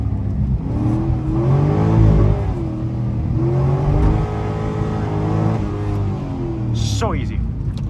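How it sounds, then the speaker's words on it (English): Corvette C6 Z06 engine revving hard as it accelerates through the gears, a loud rising and falling engine note with shifts, heard from inside the car beneath someone talking. "second gear, pulls incredibly hard, really, really good. Lots of torque."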